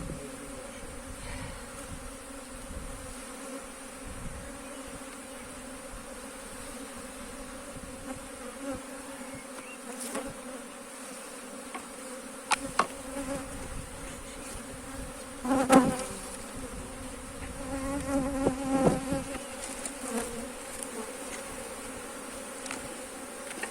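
A steady, dense buzzing of many bees fills the air continuously, with occasional faint clicks and knocks near the hive.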